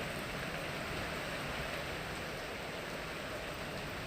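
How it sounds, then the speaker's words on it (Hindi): Heavy rain pouring down after a hot spell, a dense steady hiss of drops that stays constant and fairly faint, with no voices. "भयंकर सी गर्मी के बाद भयंकर सी बारिश हो रही है।"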